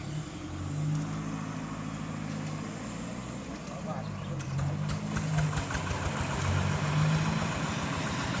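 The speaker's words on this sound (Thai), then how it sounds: "ติดเครื่องขึ้นมาแล้วครับเตรียมความพร้อมแล้ว" A pump engine runs steadily while draining a fish pond in rural Sisaket, Isan, Thailand. It gives a continuous mid-pitched drone with a person talking over it throughout.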